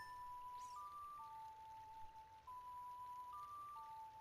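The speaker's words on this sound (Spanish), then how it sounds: "Sigue cayendo agua." Steady water falling and pouring in The Legend of Zelda: Ocarina of Time, a continuous soft wash running throughout beneath clear electronic game tones that come and go.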